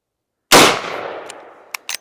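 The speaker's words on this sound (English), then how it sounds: "the Federal 125 grain jacketed Hollow Point from the full-size 1892 24-inch rifle" A single loud .357 Magnum shot from a full-size 1892 lever-action rifle with a 24-inch barrel, firing a Federal 125-grain jacketed hollow point: a sharp crack with a decaying outdoor echo, then two brief clicks.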